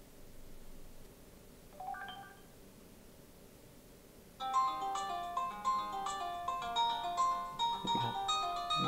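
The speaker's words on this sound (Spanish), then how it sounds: "Me están llamando." A phone ringtone sounds for an incoming call, a short beeping chime first, then a loud repeating electronic melody that keeps ringing to the end.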